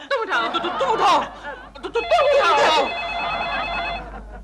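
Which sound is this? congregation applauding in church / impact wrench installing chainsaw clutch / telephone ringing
telephone ringing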